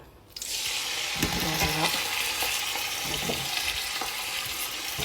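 Meat drops into hot palm oil and bursts into a loud, steady sizzle, close up, with a few clinks and stirring scrapes in the pan.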